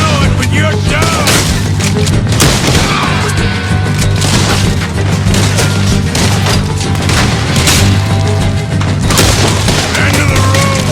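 A Red Dead Redemption shootout with dense rapid gunfire and booming impacts, loud and continuous, overlaid on game music and ambience.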